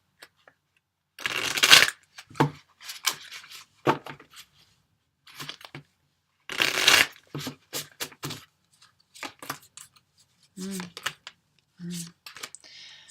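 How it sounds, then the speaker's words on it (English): Oracle cards being shuffled in bursts, two loud riffling shuffles with scattered soft card taps and handling between them, close up with a few short voiced sounds. "2 more shuffles."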